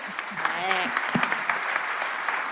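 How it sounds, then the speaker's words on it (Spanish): An audience claps at an environmental promoters panel, moderate and steady, while a voice talks over the start of the clapping. "creo que todos merecen un aplauso"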